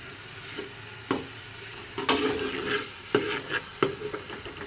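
Onions sizzle steadily in a hot pan as they turn light brown, with several sharp clinks and scrapes as a spoon stirs them.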